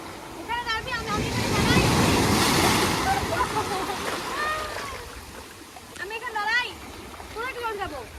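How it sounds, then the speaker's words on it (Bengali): Sea waves surge and wash ashore at Digha beach, a broad steady roar with wind buffeting the microphone, while people talk and shout nearby throughout. "দেখো বন্ধুরা জলের কি আওয়াজ এই জলের আওয়াজে পুরো ভয় লেগে গেছিল"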